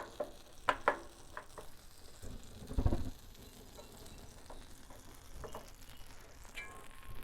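Butter sizzles and crackles on a Blackstone flat-top griddle turned down to low heat, a steady, quiet frying hiss with a few louder pops and spatters near the start.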